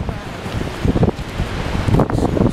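Heavy waves surge against a peninsula pier and its ice-coated rocks, loud and near, swelling in two rough bursts over steady wind buffeting the microphone.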